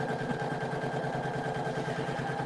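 A Poolin single needle embroidery machine stitches at a fast, even mechanical rhythm, a steady close-up whirring hum with regular needle beats and no voices.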